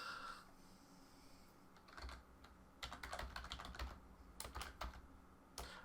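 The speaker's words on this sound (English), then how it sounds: "Why am I typing?" Quiet typing on a computer keyboard, starting with a few scattered keystrokes and turning into irregular bursts of close clicks and clacks, with no one speaking.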